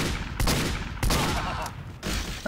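Spy weapon gunfire in a video game: three sharp, loud shots spaced about half a second to a second apart, each with a short ringing decay, no voices.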